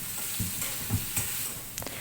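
Onions frying in oil in a pan, a close, steady sizzle with a few soft stirring scrapes and bumps over about two seconds.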